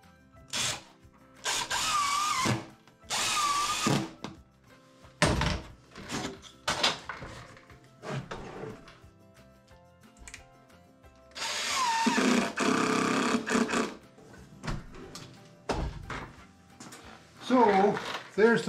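A power drill drives screws through drawer fronts on a workbench, several short bursts of whirring separated by pauses with shuffling and knocking of wood between them.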